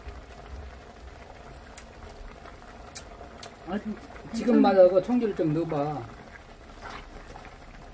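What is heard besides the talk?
tteokbokki sauce bubbling and boiling in pot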